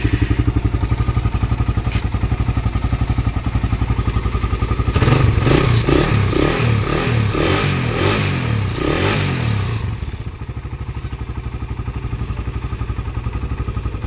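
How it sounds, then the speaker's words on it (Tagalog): A Suzuki Raider Carb 150 motorcycle idles with a rapid, even single-cylinder putter, then revs into a louder, rougher burst for several seconds before settling back to a steady idle; close and alone, no voices. "Siyempre, try rin natin paandarin yung ating motor."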